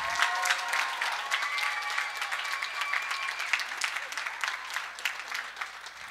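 An audience applauds a performing duo at a high school show, with sustained, dense clapping from a large crowd lasting several seconds at an even level.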